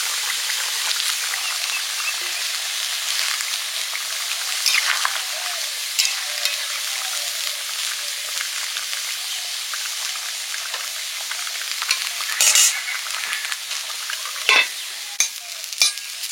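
Fresh pond fish fry in a wok alongside neem leaves, a steady close sizzle punctuated by sharp scraping clatters of a spatula stirring against the pan.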